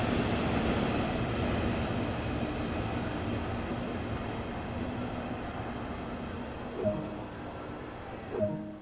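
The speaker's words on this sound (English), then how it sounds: "Look, it's noisy. Be quiet, train." A modern regional train in Train Sim World 2 on the Dresden Nahverkehr route gives a steady, loud rumbling hum with a faint tonal whine, ending in two brief clunks near the close.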